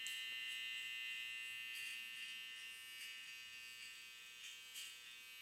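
An electric hair trimmer buzzes steadily and fairly faintly while cutting a man's hair, with small shifts in pitch as it moves through the hair.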